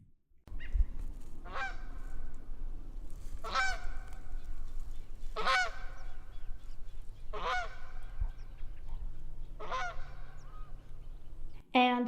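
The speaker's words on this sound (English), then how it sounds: "their vocalizations are pretty characteristic goose-like honking. So let's take a listen to that." Marsh waterfowl giving loud, characteristic goose-like honks, about five drawn-out calls spaced roughly two seconds apart, close and clear over a low background hum, with no talking.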